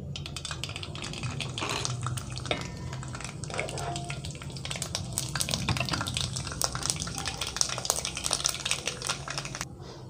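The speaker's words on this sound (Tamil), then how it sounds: "நாங்கள் இதில் கடுகு போடுவோம்." Mustard seeds dropped into hot oil in a pan for a Jaffna mutton curry, giving a continuous fizzing sizzle with scattered crackles and pops throughout, fairly close and moderately loud.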